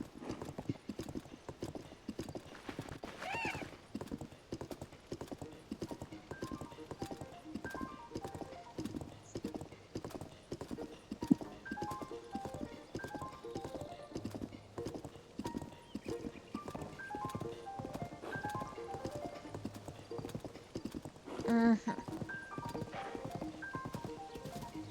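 Horse galloping in Zelda: Tears of the Kingdom, a steady rapid clip-clop of hooves running throughout with a whinny near the end, under faint game background sound.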